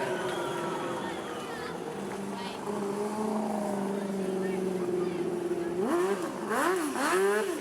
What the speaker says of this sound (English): There we are, folks. Donuts for Dale Soletto.